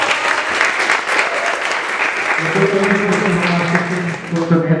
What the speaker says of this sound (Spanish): Un aplauso por todos